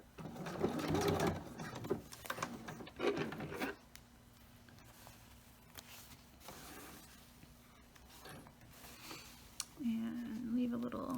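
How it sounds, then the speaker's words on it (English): A sewing machine runs straight stitches through an all-in-one cloth diaper, with bursts of motor whirring interrupted by pauses and handling, and a person talking quietly between runs. "I'm going to change my needle position again so that I can secure this down with a straight stitch"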